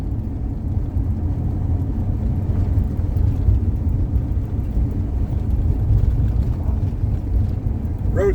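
Car rolling along a bumpy road through White Sands National Park, a steady low rumble with wind buffeting the microphone, continuous and fairly loud throughout, with no talk.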